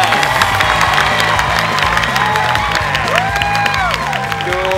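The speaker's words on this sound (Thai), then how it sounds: "ปรบมือดังๆเลย" Audience at an innovation awards event claps and cheers loudly and continuously, with whoops and rising shouted calls over dense, steady applause and music-like background tones.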